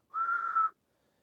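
A single steady whistle is made by blowing air through pursed lips. It is a short, clear, even tone lasting about half a second, faint and alone in silence, given as an example of narrowed-airway airflow.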